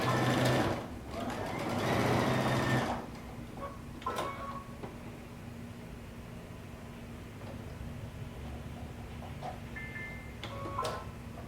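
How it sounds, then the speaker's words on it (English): A sewing machine stitches a coat seam with a loud, close whir for the first three seconds, then stops, leaving faint clicks and handling noises. "we're going to sew all the way around using 5/8 of an inch seam allowance"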